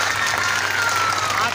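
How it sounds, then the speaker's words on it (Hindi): Brief applause from an audience at a school award ceremony, a short burst of dense clapping at steady loudness. "चलिए ताली बजाएं आप।"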